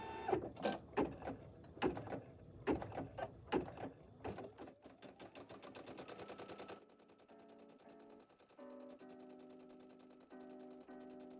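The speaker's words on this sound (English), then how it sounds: "I am going to lower the presser foot, and it is going to stitch out the tack down stitch for the first layer" An embroidery machine stitches out a tack down stitch on an appliqué shirt in a large 5x12 hoop. It starts with rapid, loud mechanical clatter in bursts, then settles into a quieter, steady whirring hum.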